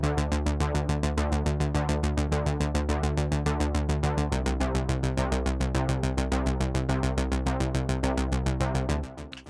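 Nifonium one-note arpeggio layered with a detuned ARP Odyssey patch from Trillion: fast, even synth pulses with a thick, buzzy tone cycling through a repeating note pattern, steady and loud before tapering off at the end.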